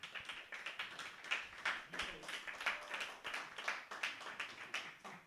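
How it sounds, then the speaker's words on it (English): A live audience at a music discussion event gives a quick round of applause, faint and somewhat distant, with dense, steady clapping across the whole stretch. "give a quick round of applause to Liam"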